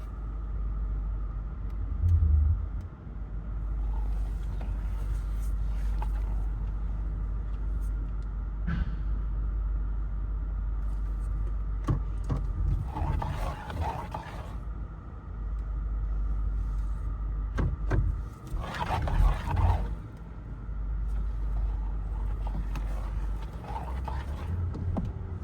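A Lexus LS460 V8 idles steadily after a stuck cam solenoid is replaced, with a low continuous engine rumble and brief louder swells and clatter partway through.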